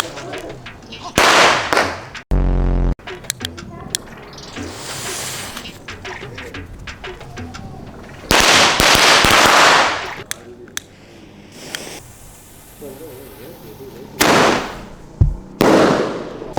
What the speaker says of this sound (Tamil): இது வந்து நெருப்பட்டி பட்டாசு.